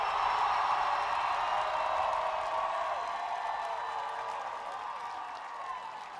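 A crowd at a house dance battle cheers and applauds as a dense, continuous roar that starts loud and gradually fades over several seconds.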